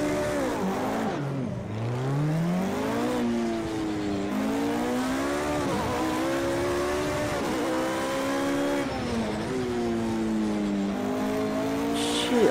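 A race car in a racing video game powers out of a corner and runs onto gravel, its engine revving loudly and continuously with rising and falling pitch as gears shift, plus some tire noise.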